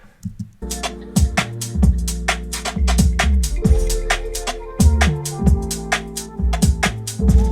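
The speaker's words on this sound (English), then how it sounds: "I wanna saturate the harmonics of the bass only, not the actual sub." A gritty bass line, saturated in its harmonics but not the sub, pulses rhythmically under crisp UK garage hi-hats and drums, its buzzy upper harmonics standing out above the deep low end.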